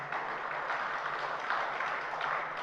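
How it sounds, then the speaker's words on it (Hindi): Steady applause from an audience at a Jain religious sermon, a dense wash of clapping that holds at an even level throughout. "तालियां बजा दी,"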